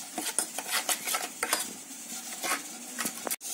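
Lemon juice and ginger garlic paste are mixed in a bowl as a fish fry marinade, with a spoon clinking and scraping in quick repeated strokes, close and fairly crisp, ending in a sharper knock.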